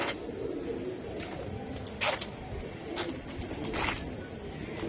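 Racing pigeons coo softly and repeatedly in a loft, low murmuring calls under a steady background hum with a few brief louder peaks.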